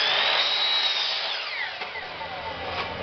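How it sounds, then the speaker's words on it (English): A chop saw squares off the end of a wood board for a small box, a loud continuous high whine that begins at full speed and slowly winds down after the cut, with no talk. "On the chop saw. First I'm going to square off the end."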